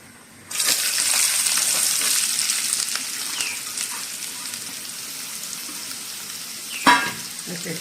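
Garlic, onion and green chillies drop into a hot pan and burst into loud sizzling frying, which settles into a steady crackle, with a brief clatter of stirring near the end.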